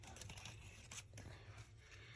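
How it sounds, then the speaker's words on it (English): Postage scissors snipping through a small ephemera paper page for junk journal stamps, a few quiet close cuts and rustles over a steady low background hum. "I'm going to use these scissors,"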